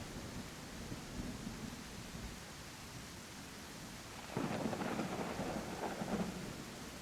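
A thunderstorm brings a steady, fairly faint hiss of rain, and a deeper rumble of thunder swells up partway through and lingers over the rain.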